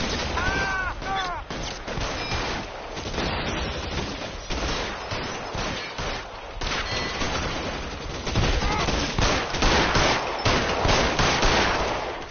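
A PS4 shootout in the video game L.A. Noire: loud, rapid gunshots and bursts of automatic fire crack repeatedly in a dense barrage, with a brief voice near the start.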